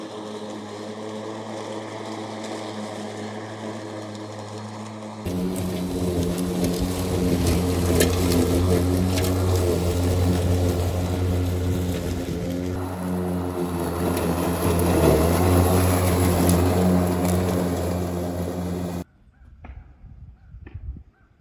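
A Mowrator S1 4WD electric radio-controlled lawn mower runs with a steady droning whine and hum, jumping louder after a few seconds, holding for a long stretch, then cutting off abruptly.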